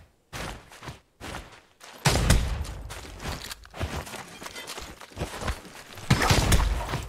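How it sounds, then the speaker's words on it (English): Gunfire breaks out in a gunfight in the video game Naraka Bladepoint, with bursts of shots, thuds and impacts arriving in uneven clusters, some loud and close, and quieter gaps between them. "This is a gunfight, boy!"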